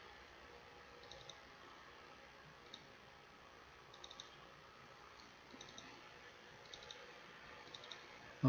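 Faint computer mouse clicks, single and in quick pairs, sound at irregular moments against a low steady hiss, with no talking.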